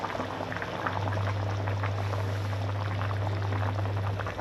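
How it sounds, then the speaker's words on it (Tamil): Chicken curry simmers in a covered pot, a steady close bubbling with soft pops and liquid gurgles over a constant low stove hum. "குழம்பு கொதிச்சிச்சு எண்ணெய் திரி வந்து ஆரம்பிச்சிருச்சு"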